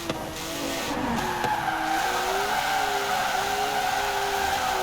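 Tires squeal steadily as a car drifts in the racing game Forza Horizon 4, a continuous high screech layered over a loud engine drone, with pitch wavering as the slide goes on.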